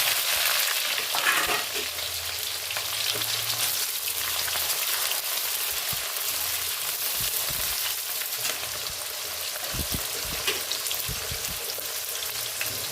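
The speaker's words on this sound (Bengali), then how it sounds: "এলাচ দারুচিনি লবঙ্গ ফোড়ন দিয়ে দিলাম, পেঁয়াজ দিয়ে দিলাম," Onion sizzles in hot oil in a pan with cardamom, cinnamon and cloves, a dense continuous crackle with occasional stirring scrapes and thumps, close and steady throughout, with no talking.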